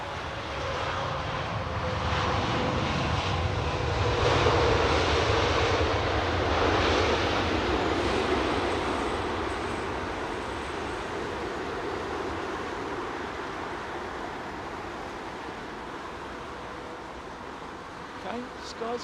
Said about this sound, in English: very shallow flare on the Dreamliner, look.